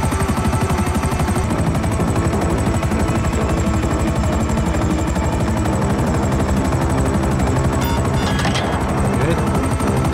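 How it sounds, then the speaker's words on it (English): A helicopter in GTA Online flies with a loud, continuous rotor chop and engine whine throughout, steady and close. "Inside this helicopter now, the way I'm flying"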